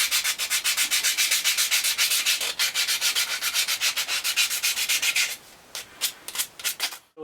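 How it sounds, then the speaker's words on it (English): Emery cloth rubbing back and forth over a wooden prop machete, a steady run of rapid, loud scratchy strokes that thins into a few separate, lighter passes near the end. "I've got a bit of emery cloth here now, so all I'll do now is go over this again"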